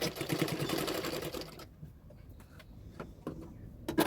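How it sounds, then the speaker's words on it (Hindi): A sewing machine stitches blouse fabric with a fast, steady mechanical whir for about a second and a half, then stops. Faint clicks and handling taps follow, and there is a brief louder rattle at the end. "अभी मैं सिलाई कर लूँगी ये पिन को उठाते हुए"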